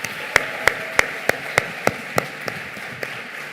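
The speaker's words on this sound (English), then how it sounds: "can we have a louder round of applause for him?" About ten sharp, evenly spaced claps ring out in a round of applause for Dr. Mickey at a Bengaluru event, each one distinct and close against a steady hum of background noise.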